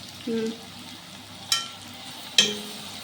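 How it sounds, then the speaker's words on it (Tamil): Ginger-garlic paste sizzles steadily in hot oil in a pan for a mutton dish, with two sharp scraping stirs cutting through the frying noise. "இஞ்சி பூண்டு பேஸ்ட் போட்டுக்கலாம்."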